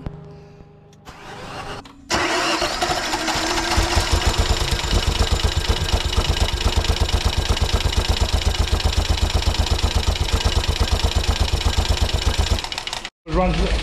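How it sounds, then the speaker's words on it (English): A 2014 Ford Fiesta EcoBoost engine with one dead ignition coil cranks briefly, catches and settles into a loud, rough, uneven idle with a steady rapid pulsing rhythm, then cuts off abruptly near the end. "The engine will run a little bit rough because I tested one ignition coil was dead."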